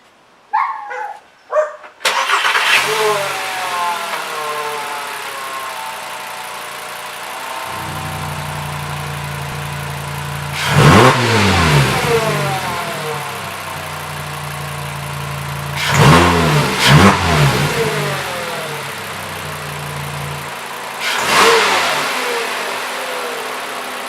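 A Mk5 Jetta with an ECS Tuning exhaust cutout cranks over and settles into a steady, loud idle, and three sharp revs rise and fall at even intervals.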